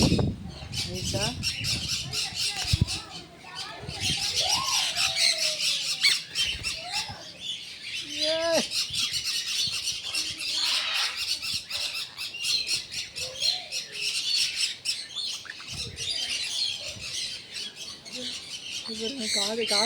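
Birds squawk and chirp in an aviary at Yelagiri bird park, with sharp calls repeating throughout at close range while a person talks over them.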